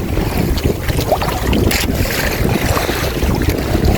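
Rough sea waves slap and churn against a fishing boat hull under heavy wind buffeting the microphone, a continuous loud rush with no voices.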